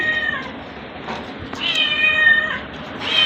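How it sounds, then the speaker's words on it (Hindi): A cat meows several times close by, with drawn-out, rising and falling cries one after another over a quiet indoor background. "बिल्ली आ चुकी है और बिल्ली खुशबू सूंघते के साथ ही आ जाती है"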